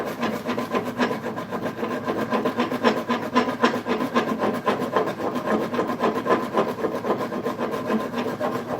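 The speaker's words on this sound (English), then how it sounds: "It's always hard with this rasp to get started." Hand rasp carving the wooden heel of a custom guitar neck, a rapid run of rough scraping strokes repeating evenly and close up, with no talk.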